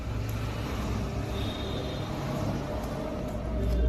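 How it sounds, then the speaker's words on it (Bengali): Continuous roadside traffic noise with cars, trucks and buses passing nearby, a dense low rumble that swells slightly at the end, with no talking. "দেখছো গাড়ির আওয়াজ পাচ্ছ?"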